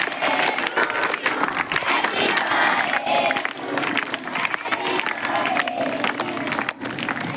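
Students clap and cheer happy birthday for their teacher at a school, with loud, dense applause mixed with shouting children's voices, continuing steadily throughout.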